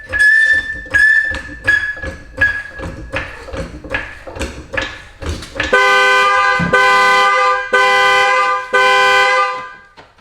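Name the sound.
Corvette car alarm going off while jacking up car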